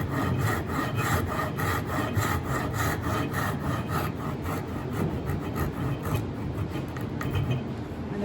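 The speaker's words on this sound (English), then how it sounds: "Just slow your saw cuts down as you're getting to the end of the cut." Hand saw cutting wood for a mortise and tenon joint, steady rhythmic back-and-forth rasping strokes, close and continuous at an even pace, slightly lighter toward the end.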